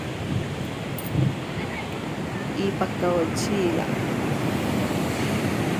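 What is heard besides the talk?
water rushing out of an open dam gate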